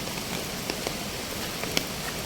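Monsoon floodwater pours from the river over rocks near Thirparappu waterfalls, making a steady, even rush of water with a few faint splashes and no voices.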